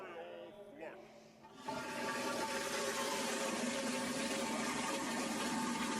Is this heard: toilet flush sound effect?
yes